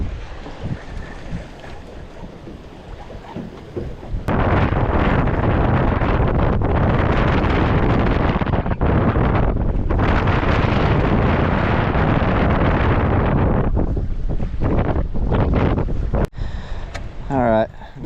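Wind blowing across open water while fishing from a boat in South Florida, a loud, rushing, buffeting roar against the microphone that surges, briefly drops out several times and then eases near the end.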